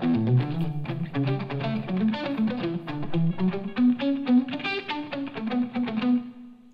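A funky electric guitar part played through an effects processor with light distortion: a busy, choppy rhythmic figure of quick notes and chord stabs, moderately loud and alone, running straight through to a sudden cutoff.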